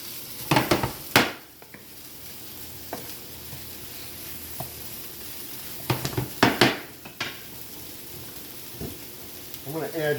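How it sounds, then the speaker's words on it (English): Chicken and vegetable stir fry cooks on high heat on a flame thrower grill, steady sizzling punctuated by sharp metal spatula clanks and scrapes against the pan in irregular bursts. "Kick it on high and just keep stirring."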